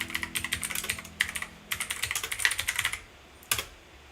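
Quick bursts of keyboard typing, clattering keys in rapid runs separated by short pauses, close and clear.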